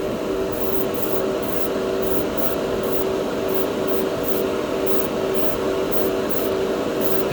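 Anodized aluminum color paint sprays onto a gunpla plastic piece in a steady, close airy hiss that runs unbroken throughout, with no voices over it.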